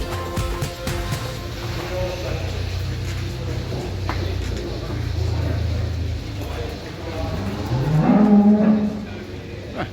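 Dairy cows moo repeatedly in a farm building where high and low yielders are being sorted before milking. The low lowing comes through close and steady, swelling near the end, with a crowd of people talking throughout.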